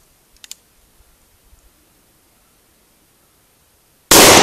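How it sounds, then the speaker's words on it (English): A Taurus Judge revolver fires one 3-inch Magnum .410 shotgun shell loaded with number 4 buckshot at 5 yards, heard as a single sudden, very loud blast near the end after a few faint clicks and handling sounds. "we'll go ahead and do 1 round at, 5 yards with the number 4 buck 410 shotgun shell, 3-inch Magnum"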